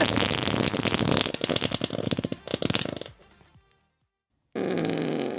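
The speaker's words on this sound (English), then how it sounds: "Just gonna lower the music so you can hear the farts better." Cartoonish fart sound effects redeemed on a live stream rattle out in a rapid string of bursts, fading away into silence before a loud burst of noise cuts back in.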